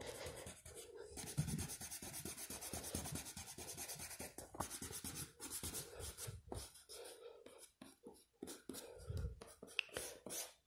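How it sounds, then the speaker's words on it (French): A rubber eraser rubbing pencil construction lines off drawing paper, heard as close, steady back-and-forth scrubbing strokes in quick rhythm, with brief pauses and a faint voice in between. "J'enlève mes traits de construction. Je vais prendre ma gomme plutôt que la petite gomme du crayon."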